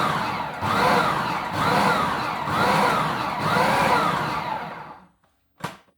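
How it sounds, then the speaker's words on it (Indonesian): Food chopper whirring as it briefly grinds raw shrimp to a coarse texture, a steady loud motor drone with pulsing surges that cuts off, followed by a short clunk. "Udangnya kita giling sebentar aja karena kita mau ada tekstur udangnya"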